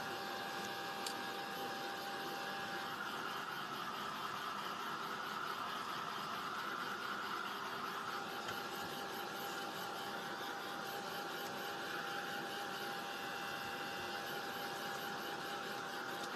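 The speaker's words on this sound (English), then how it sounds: "sometimes this heat tool, I feel like when I'm trying to dry stuff, the heat's not that great for it" Craft heat tool blows a steady, even whoosh of air that holds at one level throughout, fairly quiet with no talk over it.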